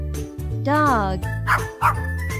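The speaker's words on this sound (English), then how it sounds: "Dog." A dog barks a few times in short, loud bursts over steady background music, with a whining tonal sound between the barks.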